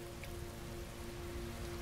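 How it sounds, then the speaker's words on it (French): Heavy downpour in the video game Heavy Rain, a steady, dense hiss of rain on surfaces filling the scene continuously, with a faint low tonal hum beneath. "Il pleut à verse."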